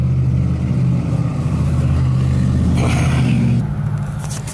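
Loud modified cars pass by on the road outside, a steady heavy engine rumble for most of the clip with a brighter rushing swell near the end as one goes past, then a slight fade.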